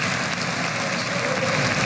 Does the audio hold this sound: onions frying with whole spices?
no